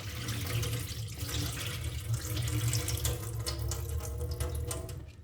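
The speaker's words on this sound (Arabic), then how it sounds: "كما كتلاحظوا هنايا ديجا الماء ديالنا بدا كيصفى شويه بشويه." Rinse water draining from sushi rice in a kitchen sink, a steady close splashing and running-water rush with no pauses.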